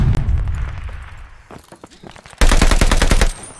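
Rapid bursts of AKM rifle fire in the video game Call of Duty: Vanguard, first in a loud opening stretch, then quieter scattered shots, and finally a loud sustained automatic volley near the end.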